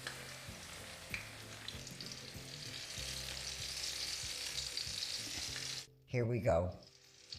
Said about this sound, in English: And let's fry our eggplants, as I said before, just a quick fry.